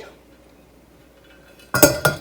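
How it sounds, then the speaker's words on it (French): Crockery and cutlery clatter as a dishwasher is unloaded at home, a few sharp clinks and knocks arriving suddenly after a quiet stretch, close and fairly loud. "Là, je vais vider mon lave-vaisselle."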